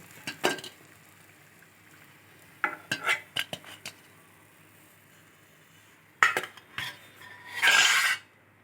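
Wheat flour being stirred and roasted in a pan for homemade biscuits, with scattered scraping and clinking strokes of a spoon against the pan in short bursts, ending in a louder rasping scrape.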